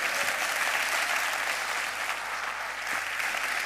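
Steady audience applause at a carnival murga performance, a dense, even wash of clapping from a large crowd that holds at the same level throughout, with no speech over it.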